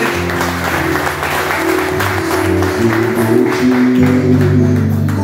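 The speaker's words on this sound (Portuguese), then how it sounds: "Você pode aplaudir esse Deus que você faz presente?" A church congregation applauds during a Sunday worship service, sustained clapping from many people over sustained organ or keyboard tones, loud and close.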